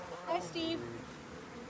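Honey bees buzz and drone around an open hive frame during a beekeeping visit in Fairbanks, a close, wavering hum mixed with a few brief, faint voices nearby.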